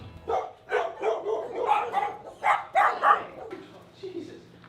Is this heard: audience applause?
no